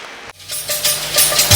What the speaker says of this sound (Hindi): तालियां बजती रहे स्वागत में।